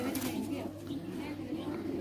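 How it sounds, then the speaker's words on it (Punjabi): A pigeon from across the border coos softly in low, repeated murmuring notes close by, with someone talking over it. "ਵੇਖੋ ਪਾਰ ਦਾ ਕਬੂਤਰ ਹੈ"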